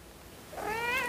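A female pet cat gives a single clear, rising meow indoors during a home stretching session, fairly close and heard alone against a quiet room.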